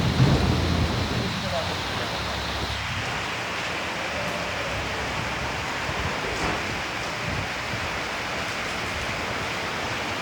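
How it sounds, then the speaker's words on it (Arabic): Heavy rain pours steadily over Jeddah as a dense, even wash of noise, with low rumbling underneath and no voices. "أمطار مستمرة من الساعة 9 والحين الساعة 11 وشوية صباحا"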